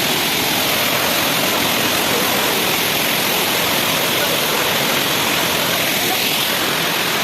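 Steady broadband roar of a waterfall at a scenic spot in Keonjhar, Odisha, loud and continuous with no clear breaks, no voices heard.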